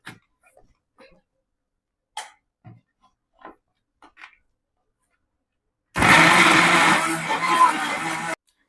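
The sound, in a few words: mixer grinder mincing chicken pieces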